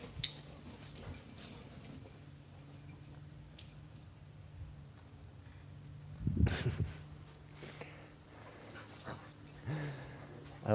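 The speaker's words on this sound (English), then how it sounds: "I love watching these dogs play." Dogs playing, with faint whimpers and small scuffling sounds over a low steady background hum, a louder burst of activity midway, and a brief voice or two in the distance.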